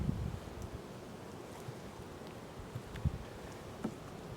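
Honey bees hum faintly around a hive that is drawing new burr comb, a soft continuous buzz with occasional louder passes close by. Light wind and rustling sit under the buzz, and no one speaks.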